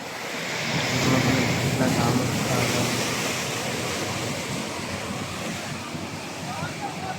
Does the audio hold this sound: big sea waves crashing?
yes